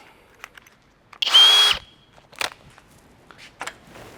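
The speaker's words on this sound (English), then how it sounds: "take your drill and your 1/4" drill bit," A single short burst of a power drill with a 1/4-inch bit whirring up while drilling holes in a ladder, with faint clicks and handling noises before and after.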